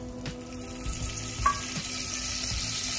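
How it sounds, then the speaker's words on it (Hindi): Butter melting and sizzling in hot cooking oil in a pan over a low flame for pav bhaji, with a steady soft crackle throughout and a few faint clinks of utensils. "बटर पिघल रहा है"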